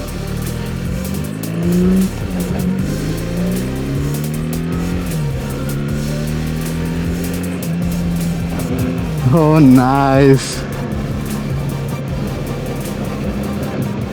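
A BMW R 1300 GS motorcycle engine hums steadily in road mode, then revs sharply in rising, wavering bursts near the end; a person speaks briefly over the engine.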